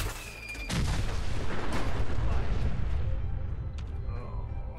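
A gauss rifle shot in the video game Fallout 4 during Nuka World gameplay, a sharp heavy blast followed by a rumbling boom and decaying roar, with a brief electronic tone at the start.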